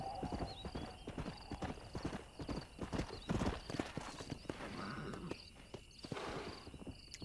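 Horse hooves clip-clop at a steady walking rhythm in the Western video game Red Dead Redemption, fairly faint, with a whinny partway through and crickets chirping in the background.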